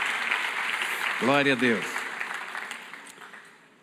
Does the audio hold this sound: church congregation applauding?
yes